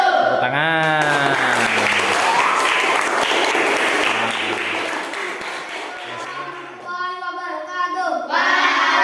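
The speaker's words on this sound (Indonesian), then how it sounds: "Tepuk tangan." A school class applauds after a group presentation on electricity transmission, a sustained wash of many hands clapping at close range, with voices speaking at the start and end.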